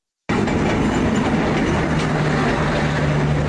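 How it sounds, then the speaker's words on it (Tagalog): An LRT train passing, loud and close, a steady heavy rumble with wheel clatter and a faint sustained squeal, starting abruptly after a short silence, with no talking. "LRT, MRT, train?"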